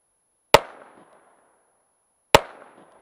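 Two sharp, loud shots from a Ruger SR22 .22 pistol fired at a bottle, spaced about two seconds apart, each cracking hard and then trailing off in a brief echo, with no talk.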